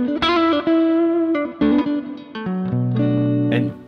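Electric guitar through a fuzz pedal with the guitar's volume rolled down, giving a softened overdrive tone; a few close, sustained chords and single notes played alone, with no talking.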